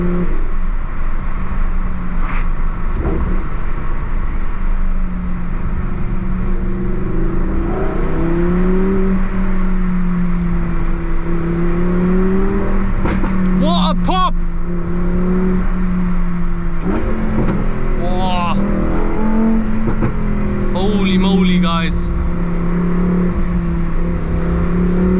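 Lamborghini Huracan STO engine heard from inside while driving: a loud, continuous roar that climbs and falls in pitch as it revs, with brief gearshift breaks and no talk.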